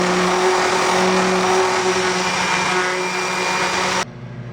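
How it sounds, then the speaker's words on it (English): A palm sander runs continuously on the end of a wooden massage tool, a loud steady electric whine with a constant hum that cuts off abruptly near the end. "now I'm going to use this palm sander to finish the end down to better."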